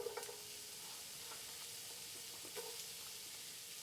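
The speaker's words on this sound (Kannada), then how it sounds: "ಹಾಕ್ಬಿಟ್ಟು ಹೆಚ್ಕೊಂಡಲ್ಲ ದಪ್ಪ ಈರುಳ್ಳಿ ಅದನ್ನು ಹಾಕ್ತೀನಿ" Thick-sliced onion frying in ghee for a North Indian palak paneer gravy gives a soft continuous sizzle with faint stirring scrapes, quiet and close, with no talking.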